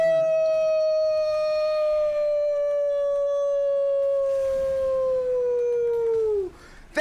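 A long, sustained human imitation of a wolf howl, loud and steady, holding one pitch with rich overtones for about six seconds before sliding down and breaking off, with no other talk over it.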